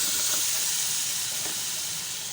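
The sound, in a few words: potatoes added to sizzling masala in a pan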